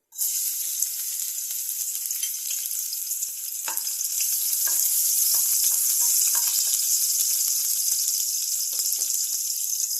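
Garlic frying in two tablespoons of hot oil in a kadai, a dense bright crackling sizzle that starts abruptly and holds steady for ten seconds, with occasional soft stirring taps and no voices.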